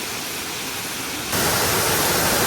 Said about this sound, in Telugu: అసలు ఆ వాటర్ ఫాల్ పడుతున్నప్పుడు ఆ సౌండ్